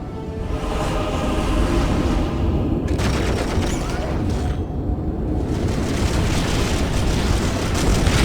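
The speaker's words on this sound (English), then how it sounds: "Prepare for incoming orbital fire!" Orbital bombardment pounds the battlefield in Warhammer 40,000: Dawn of War, a dense, continuous roar of overlapping explosions and blasts that stays loud for the whole stretch, with brief shouted voices mixed in.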